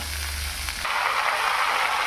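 Washed fish goes into hot oil already holding five-spice seasoning and chopped onion. A loud, close sizzle erupts partway through and keeps hissing steadily to the end, with no talking.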